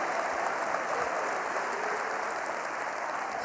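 A church congregation claps steadily in a dense, even burst of applause during a sermon, loud and close with no clear voices standing out.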